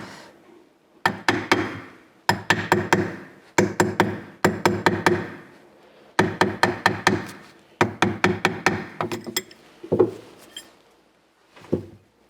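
Metal ring being hammered round during jewellery making, bursts of rapid sharp taps in clustered groups separated by short pauses, fairly close and crisp.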